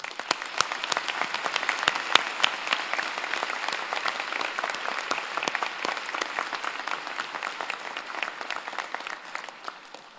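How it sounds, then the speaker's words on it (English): A graduation convocation audience gives a vigorous round of applause to honor the graduates, a sustained crowd of many hands clapping with sharp individual claps standing out, steady and fairly loud throughout. "thanking them with a vigorous round of applause"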